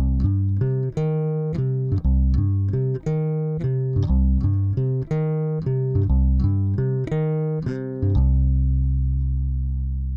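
A bass guitar, finger-plucked up near the neck, plays a steady run of round, soft-attack notes in an even rhythm, ending on one low note that rings out, with no talking.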